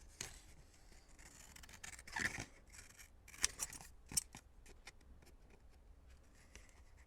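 Paper being cut with scissors while decorating journal pages: a series of crisp, close snips and rustles, quiet overall, with a few sharper cuts standing out and no talking.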